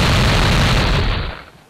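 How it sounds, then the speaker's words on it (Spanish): Big explosion in The House of the Dead, a loud dense roaring blast that holds for about a second and then fades away, with no talk over it. "qué gran explosión"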